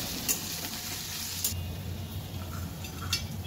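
Pasta with potato stir-fried in a pan with chopped chili and garlic gives a steady, close sizzle. Occasional scraping and clinking of stirring sit on top of the constant frying hiss.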